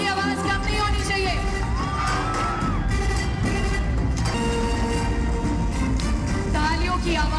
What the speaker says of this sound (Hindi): तालियों की आवाज कम नहीं होनी चाहिए।